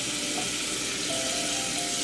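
Butter melts in a saucepan over medium heat, giving a dense, even sizzle and hiss that holds steady and close for two seconds without any voices.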